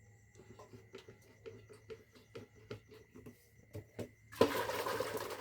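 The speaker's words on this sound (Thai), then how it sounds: "ล้างถ้วยล้างชามดิจ้ะ" Bowls and dishes being washed with water, starting with scattered clinks and knocks of crockery, then a loud, steady rush of running water for the last second or so, close by.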